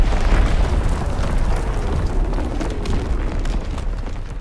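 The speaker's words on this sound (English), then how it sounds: "Incoming enemy artillery! Get to cover!" Enemy artillery shells exploding in the World War II shooter Call of Duty WW2, a continuous barrage of deep booms and rumbling blasts, loud and dense with no pauses.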